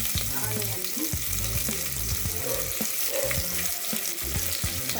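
Onion, bay leaf and whole biryani spices frying in oil inside a pressure cooker, a steady close sizzle with occasional stirring scrapes running throughout, no voices.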